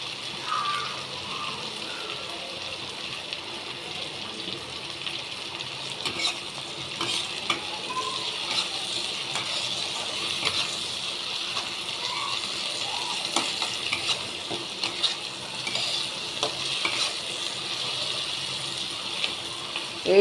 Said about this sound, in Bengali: এবার আমি 5-7টা কাঁচা লঙ্কা ফেলে দিয়ে দিয়েছি।